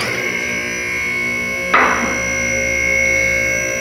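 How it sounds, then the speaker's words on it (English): A single-post car lift locks into place with one sharp, solid clunk over its steady motor hum, heard nearby with no talking. "That noise was for the lock to engage."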